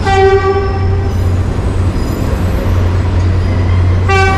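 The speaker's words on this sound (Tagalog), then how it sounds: "Ayan naman yung train. Garit ko siya ng Alabang papuntang Tutuban." A passenger train on the Alabang to Tutuban line passing close by, with a loud sustained horn blast at the start and again at the end over heavy rolling rumble of the cars.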